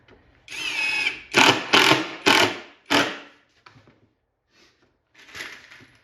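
A Bauer or Skil power drill in a shop drives 1.25 inch exterior screws into a wooden countertop, whirring up then biting in several loud, short bursts, followed by quieter trailing whines and a final brief run.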